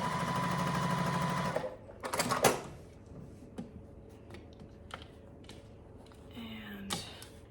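Sewing machine stitching quilt roof pieces runs in a steady, fast whirring burst for over a second, then stops, followed by scattered clicks and handling noises, with another brief machine whir near the end.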